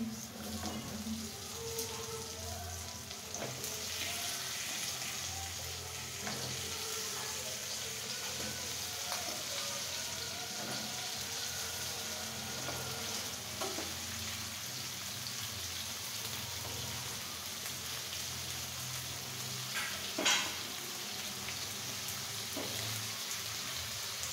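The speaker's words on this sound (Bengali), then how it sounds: "দিয়ে আমি এখন খুব সুন্দর করে এটা ভেজে নেব।" Cauliflower fries in a pan with a faint, steady, rain-like sizzle and light crackles, a few soft clinks scattered throughout and one sharper tap near the end, quiet and unbroken by talk.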